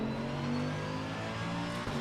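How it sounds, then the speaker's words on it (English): A Mercedes AMG GT3 race car engine roars steadily in a racing video game, a loud sustained harmonic drone at high revs with a brief dip near the end as it shifts. "Hope you guys can hear the car and everything correctly."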